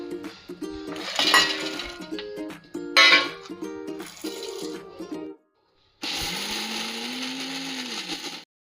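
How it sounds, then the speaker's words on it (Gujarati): Mixer grinder crushing dry dates, edible gum and fox nuts for fenugreek laddoos: jars and utensils clink first, then after a short pause the motor roars in a loud, steady whir for a few seconds. "મિક્સરમાં આપણે ક્રશ કરી દઈશું"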